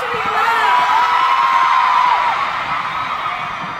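A fan-concert crowd in Manila yells and screams together, a loud, sustained roar of high-pitched shrieks and cheers that fills the whole stretch and fades slightly toward the end.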